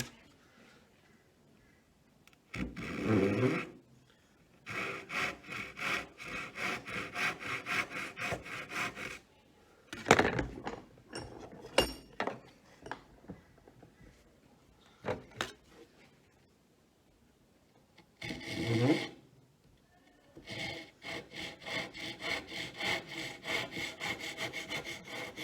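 Hand saw cutting a bridle joint in a wooden camp stool leg, heard as steady back-and-forth rasping strokes in several bursts separated by pauses, close and fairly loud, with no talk.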